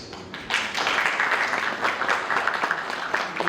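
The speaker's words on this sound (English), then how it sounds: "can we please have a round of applause for them, please?" A crowd at a gym launch in New Delhi gives a round of applause, a moderate, somewhat distant wash of clapping that swells and holds for a few seconds.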